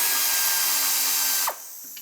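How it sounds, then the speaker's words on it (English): A power tool spins out the 10mm bolt holding the rear ABS sensor on a 2007-2010 Chrysler Sebring, a loud, close, continuous whir that cuts off abruptly near the end, leaving faint workshop quiet. "I want to remove the ABS sensor, which is right here, held on with a 10mm bolt."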